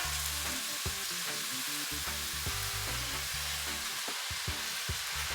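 Carrots and cabbage sizzle steadily in a hot pan for Jamaican cabbage, a loud continuous frying hiss with frequent clanks and scrapes of stirring, no voices.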